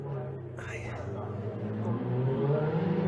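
A Ferrari Challenge Europe race car on the last lap at Monza, its engine revving and climbing in pitch as it accelerates, loud and close, with a brief whir near the start.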